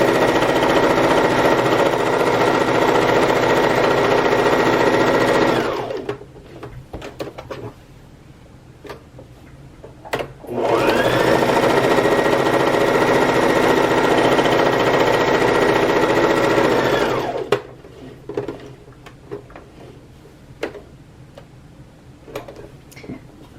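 Sewing machine running forward and back stitches along a fabric bag: two loud, steady motor-driven runs of rapid needle clatter, each lasting several seconds, separated by quiet handling clicks and pauses.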